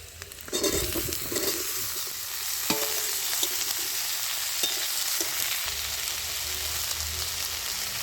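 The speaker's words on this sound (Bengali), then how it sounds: "এবার আমি কেটে রাখা বেগুনটা দিয়ে দিচ্ছি।" Chopped eggplant dropped into a hot wok with fried onion and garlic, bursting into a sharp sizzle and then crackling steadily under repeated scraping strokes of a stirring spatula.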